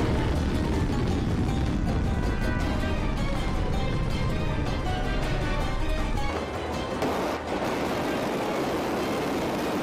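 A missile blast at sea, heard as a loud, sustained roaring rumble with a dense low-end boom that stays heavy for several seconds before easing slightly toward the end.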